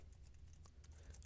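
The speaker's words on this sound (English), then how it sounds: "in the Link To box, I can type in the web address that I want to connect to" Computer keyboard keys tapped while entering a web address into a hyperlink box in Excel for Mac, a quick run of soft, close clicks over a low steady hum.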